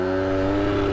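A tiny moped fitted with an oversized engine, running rich on too much oil and smoking, drones with a close, loud, steady hum. No voices are present in this brief burst.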